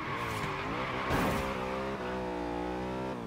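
A race car drifting in Forza Horizon 3, engine droning steadily at high revs with a brief burst of tire squeal in the middle, close and continuous throughout.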